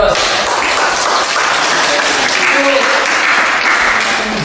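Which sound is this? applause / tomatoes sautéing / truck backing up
applause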